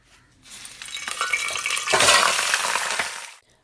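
Oil going into a hot pan for Kashmiri white chicken yakhni bursts into a loud, close sizzle that swells, holds steady for a few seconds, then cuts off.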